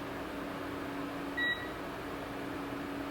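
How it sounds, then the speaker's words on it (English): A kitchen timer gives a single short, clear beep while chili verde pork cooks on the stove, set against a steady low hum. "my timer just went off, so I'm going to turn off the heat"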